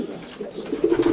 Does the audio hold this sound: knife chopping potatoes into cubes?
no